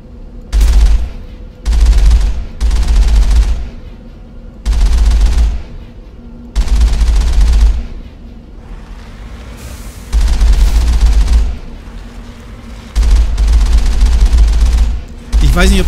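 Gunfire in the video game Mass Effect in repeated loud bursts, some single shots and some sustained volleys, separated by short quieter gaps with a low hum underneath.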